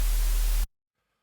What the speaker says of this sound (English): And this time, we're going to use a bright white.